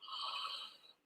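A singer's yawn-sigh at the close of a livestream vocal warm-up, a breathy, airy exhale held for about a second and trailing off softly, fairly quiet and alone with no talk.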